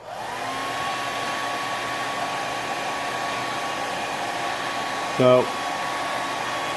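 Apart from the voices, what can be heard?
hair dryer blowing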